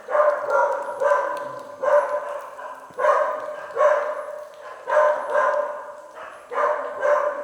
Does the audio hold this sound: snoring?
no